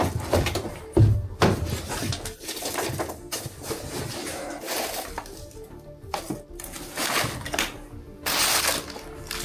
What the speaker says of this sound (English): A bit of an annoying door.